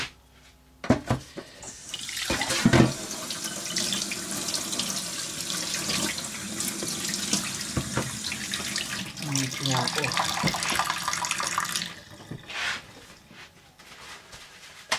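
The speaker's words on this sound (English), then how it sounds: "Just close that up and give that a quick rinse." Tap water runs steadily into a sink for about eleven seconds while a boilie-making container is rinsed, with splashing and a few clatters, then the flow stops near the end.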